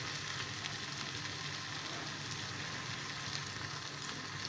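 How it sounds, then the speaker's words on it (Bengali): Chopped capsicum sizzling with softened, translucent onions in a pan for paneer bhurji, making a steady, close hiss that runs without a break and carries no voices. "এখন এর মধ্যে আমি ক্যাপসিকাম কুচিটা অ্যাড করে দিলাম।"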